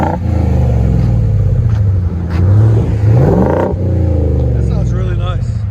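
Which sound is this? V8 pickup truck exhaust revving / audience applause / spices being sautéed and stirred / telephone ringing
V8 pickup truck exhaust revving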